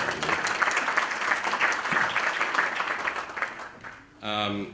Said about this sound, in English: Mohamedou, please give them a round of applause.